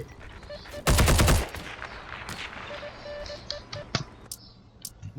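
A short, loud burst of rapid automatic gunfire erupts in Heroes & Generals, followed by scattered single shots and clicks in the game, with no talking in the clip.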